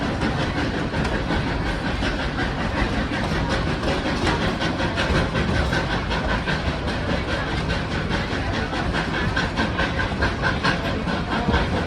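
A Georgetown Loop Railroad train runs along the high fill toward Silver Plume, heard from on board as a continuous loud rolling rumble and rhythmic clatter of wheels on track, with a faint hiss.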